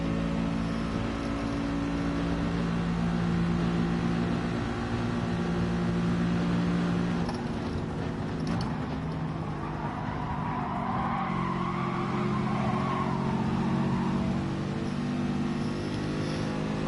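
A race car engine drones loud and continuous in Gran Turismo Sport during an FIA online race, its pitch rising and falling with engine speed and no break.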